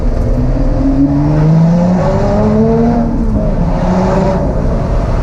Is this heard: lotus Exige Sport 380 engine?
yes